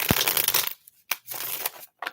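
Playing cards riffled and shuffled by hand, a dense papery flutter up front followed by a few short snaps and a brief second riffle, close and fairly quiet.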